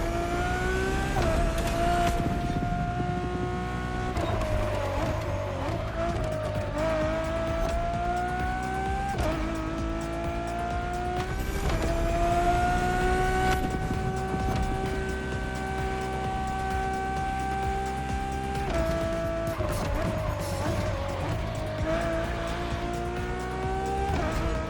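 A Ferrari Enzo V12 in the racing game The Crew Motorfest, steady and loud throughout, with the engine note climbing through repeated gear upshifts and occasional tire squeal, no talking.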